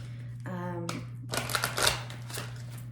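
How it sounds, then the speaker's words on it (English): Romance Angel oracle card deck being shuffled by hand, a few quick riffling bursts against a steady low electrical hum, with a voice briefly audible in the background. "I have to give it a couple of extra shuffles for you on camera."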